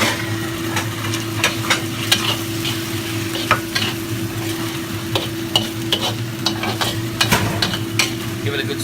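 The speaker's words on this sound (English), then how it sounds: "Give it a good stir." A spatula stirs mapo tofu sauce with spring onions in a pan, giving a steady simmering sizzle broken by frequent sharp scrapes and clicks against the metal, with no voices.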